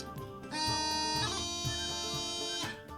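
A bagpipe plays fast doublings, a G grace note followed quickly by an F grace note, as rapid ornaments over a loud, continuous reedy drone with no talk.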